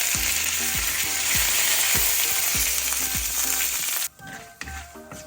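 Chillies and curry leaves frying in a pan with reddening rice for a Kerala green tomato thoran, a loud, dense sizzle with repeated scraping strokes that cuts out sharply near the end, leaving faint clatter.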